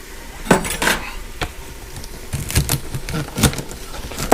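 Knife chopping the ends off vegetables on a board in a home kitchen, a few sharp irregular thunks and clinks spaced out, close by with light handling noise between cuts.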